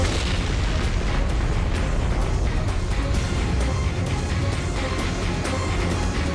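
A continuous, roaring wall of noise with rumbling booms and crackling bursts throughout, loud and sustained like massive explosions.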